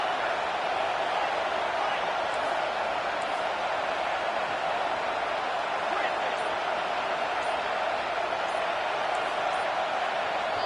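Stadium crowd roaring in a football video game, a dense, steady wall of loud crowd noise sustained throughout with no clear breaks.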